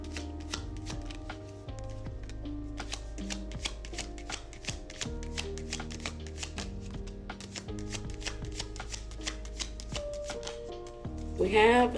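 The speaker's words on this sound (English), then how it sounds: "Can I get a couple more cards," Tarot cards are shuffled by hand in a continuous run of quick riffling and soft slapping, close and steady, with a brief louder flurry near the end and no clear talk.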